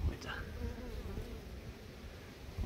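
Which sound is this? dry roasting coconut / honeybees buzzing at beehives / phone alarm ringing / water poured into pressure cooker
honeybees buzzing at beehives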